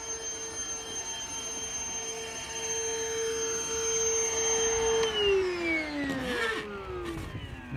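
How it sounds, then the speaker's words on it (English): A loud vacuum motor whines steadily while pulling string through a conduit, then its pitch drops and strains as suction clogs, ending in a lower labored drone. "You can hear the vacuum just clog up over there."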